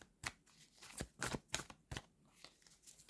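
Tarot cards being shuffled and drawn by hand, a quiet close series of crisp flicks and slaps in an uneven rhythm.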